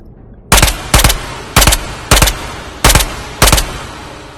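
MPX firing in the Ghosts of Tabor video game: six loud, sharp bursts of gunfire, each a quick double shot, spaced roughly half a second apart with fading tails and no talk.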